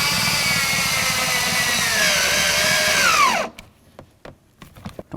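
Power screwdriver driving two screws into the door handle area of a 1988-2002 GMC Sierra 1500 during a window regulator replacement, a close, steady whir that winds down sharply, followed by scattered clicks and handling knocks.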